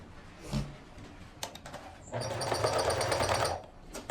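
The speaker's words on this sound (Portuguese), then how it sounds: "vamos costurar aqui na máquina o elástico na saia" Electric sewing machine stitching elastic onto a skirt, a fast steady whirring run of about one and a half seconds after a few short clicks and handling bumps, close and moderately loud.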